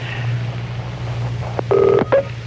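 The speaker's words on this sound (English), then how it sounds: "I always answer my own phone." A telephone call is dialed, with a few short electronic tones sounding near the end over a steady low hum. The tones are brief and clear, with no talking.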